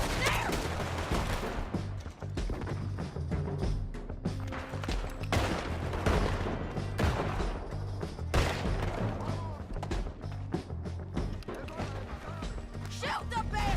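Gunfight in Red Dead Redemption 2, scattered gunshots and volleys cracking throughout amid shouting voices and clattering impacts, steady and moderately loud.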